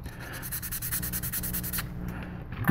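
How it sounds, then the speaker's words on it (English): Rapid rhythmic rubbing of 400-grit sandpaper on primer, a quick scratchy back-and-forth at close range that stops abruptly near the end. "Let me see if I can sand it out."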